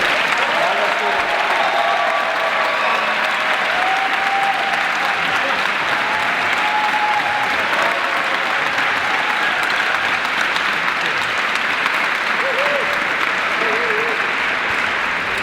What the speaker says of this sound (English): very big clap for Jose and Rafa for organizing